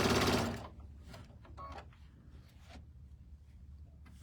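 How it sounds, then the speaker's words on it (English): Sewing machine stitching a quarter-inch seam on a cinch bag, beginning with a brief loud burst of motor whir and then shifting to quieter scattered mechanical clicks and taps nearby. "We are going to stitch with a 1/4 inch seam allowance."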